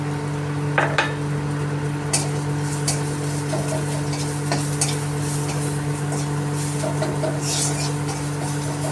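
A spoon stirs ground cumin, chili, turmeric and pepper in a pan for an egg dal, scraping and clinking against the metal with scattered taps over a steady low hum.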